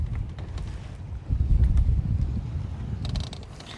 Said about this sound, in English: It's too windy, bro.